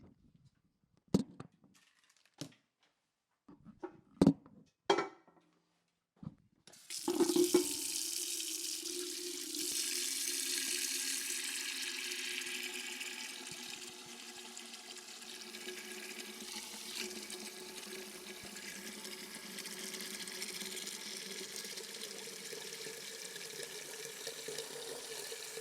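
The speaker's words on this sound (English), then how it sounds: "it's time to go to Flavourtown, Italy and fill up our pasta pot" Metal pot clanks a few times in a kitchen sink, then tap water pours steadily and loudly into the pasta pot, filling it for cacio e pepe, with no talk.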